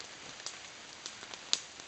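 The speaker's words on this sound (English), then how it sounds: "it's raining really steadily" Steady rain falls outdoors as a faint, even patter, with occasional louder drips landing nearby and no voices.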